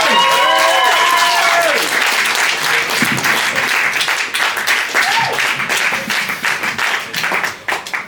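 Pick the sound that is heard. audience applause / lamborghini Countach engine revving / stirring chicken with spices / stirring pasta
audience applause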